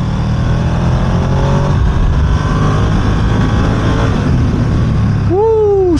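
A Ducati Streetfighter V2 naked motorcycle on a road ride, engine droning loudly and continuously under heavy wind rush, with a rising rev sweep near the end.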